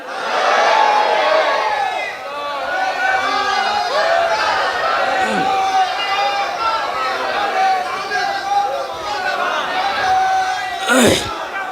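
Large crowd at a Bangla religious sermon shouting the Nara-e-Takbir chant in loud rhythmic unison, repeated call-and-response phrases from many voices filling the space, with a sharp thump near the end.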